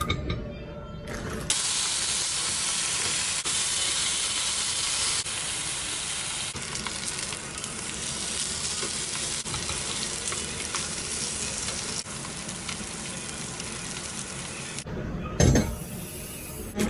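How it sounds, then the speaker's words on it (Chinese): Sliced chashu pork pan-frying in a home kitchen, a steady close sizzle and hiss with occasional faint clinks, running unbroken for most of the stretch before cutting off near the end. "先把之前做好切成片的叉烧拿出来稍微煎一煎。"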